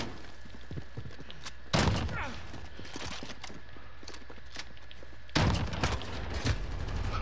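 A 725 shotgun fires in Modern Warfare multiplayer, with two loud, booming blasts a few seconds apart over quieter game noise, footsteps and faint clatter.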